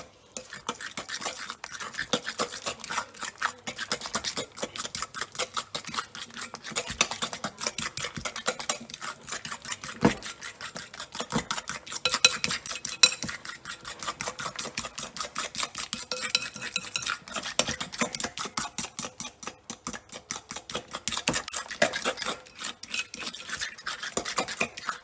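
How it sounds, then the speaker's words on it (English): A fork whisks Big Mac-style sauce made with garlic powder, paprika and white sugar in a bowl, giving rapid continuous scraping and clicking against the dish, close and steady for about twenty-five seconds with no talk. "I'm going to grab a fork and just give this a mix"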